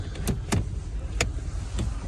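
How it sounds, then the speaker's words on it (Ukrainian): An electric tow hitch deploying on a VW Touareg gives a few short mechanical whirring clicks and thuds in quick sequence, close and moderately loud, with no talking. "Тут відкривається фаркоп електричний."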